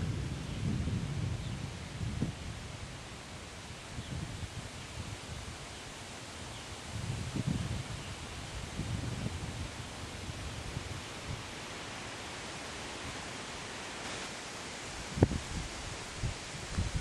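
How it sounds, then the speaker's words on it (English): A thunderstorm over saturated ground sounds as a steady broadband wash of rain and wind, with low rolling thunder swelling several times and a sharper crack near the end, no voices. "so get storms like this that roll through, if they dump out, it just makes a bigger mess of things"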